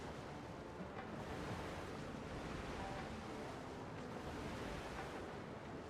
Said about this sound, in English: We'll sleep out here, listen to the waves.